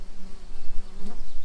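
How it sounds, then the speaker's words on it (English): A swarm of honeybees buzzes close by, a dense, continuous drone with pulsing swells as individual bees fly near. "A lot of bees"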